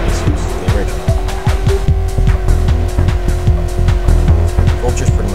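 Vulture, an early high-speed car in the video game Hot Wheels Velocity X, races with a steady high engine whine and repeated tire squeals and skids, loud and continuous throughout, with game music or effects underneath.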